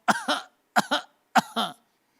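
A voice imitates a small boy's cough from a cold: three quick pairs of short, dry coughs, close and clear, separated by brief pauses.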